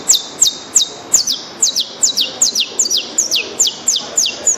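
A man whistles an imitation of a Brazilian saffron finch (canário-da-terra), giving a lively series of about a dozen sharp, rising chirps in quick rhythm, clear and close with no talking.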